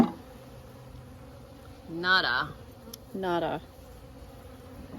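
Honeybees buzzing around an open hive during a sunset inspection on a farm, a faint steady drone with two louder bursts as bees pass close by; no talk.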